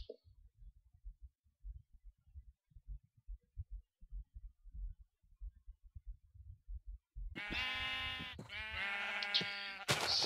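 Sheep bleating in the Crashcraft video game, a few close wavering bleats arriving after a stretch of low thumping footsteps or hum, with no speech.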